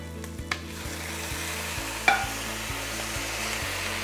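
Onions, garlic and tomatoes frying in a pot, a low continuous sizzle over a steady mechanical hum, with a few light clicks and one louder knock of stirring.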